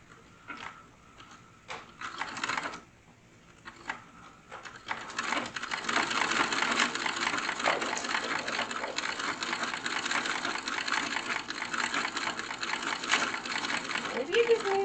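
A restored vintage sewing machine runs in a steady, continuous mechanical whir after a few short starts and stops, growing louder and holding fairly close; no one speaks.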